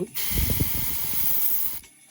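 An airbrush sprays paint onto a 1/48 scale MH-53E helicopter model during weathering, giving a steady, close hiss that starts abruptly, holds for nearly two seconds and then cuts off.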